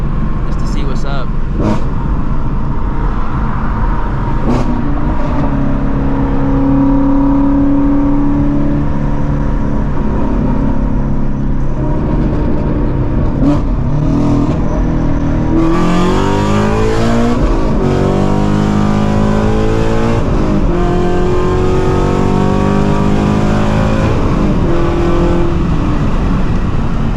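A 600 hp Subaru WRX STI engine roars loud and close during a hard acceleration pull, its pitch sweeping upward through several gear changes in rising, stepped climbs, with people talking over the sound.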